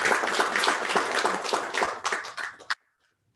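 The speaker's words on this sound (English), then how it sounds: "So please, a round of applause for those finalists." An audience claps for the finalists at a Rotary young women's awards event, a dense, fairly close burst of applause that holds steady for a few seconds and then stops abruptly.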